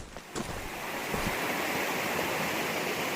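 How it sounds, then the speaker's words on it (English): A river flows beside a hiking trail in the Maine woods, a steady broadband rush of water that holds close and constant throughout, partly mixed with wind buffeting the microphone and with no voices. "Just checking out the river while we're here."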